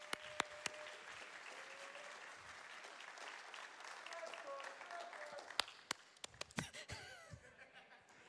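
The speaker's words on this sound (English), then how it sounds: "Let's give another round of applause to Shredbird" An audience applauds a Super Meat Boy run in a room, steady clapping with scattered chuckles and a few sharp close claps and knocks as the applause fades near the end.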